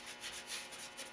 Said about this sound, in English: come back with a wet rag and start wiping it off